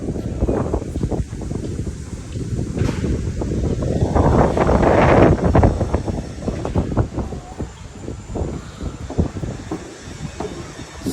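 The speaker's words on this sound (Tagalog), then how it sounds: "It's very windy." Strong, cold wind buffeting the second floor of the Eiffel Tower: a loud, continuous roaring rush that swells midway and then settles, with no voices.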